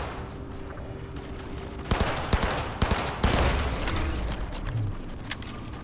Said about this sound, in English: Something was shooting at us.